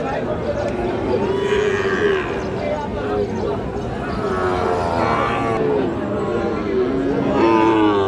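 A Sahiwal bull calf moos several times at a cattle market, drawn-out lowing calls rising and falling at intervals amid a busy crowd hubbub with people talking throughout.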